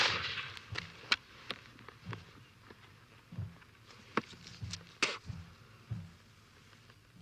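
Musket volley from Civil War soldiers after drilled commands, heard as scattered sharp cracks and dull thumps at a distance, several separate reports spread over several seconds rather than one unified blast, fairly faint.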